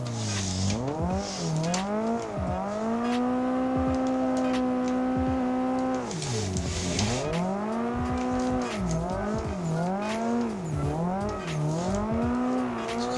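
A race car engine in a driving video game revs up and down in repeated sweeping surges while drifting, with tires squealing through the slides, loud and continuous with no talk.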